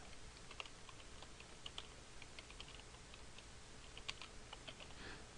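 Quick, faint clicking of a computer keyboard as text is typed into a PowerPoint text box, a steady patter of light key taps over a low background hiss.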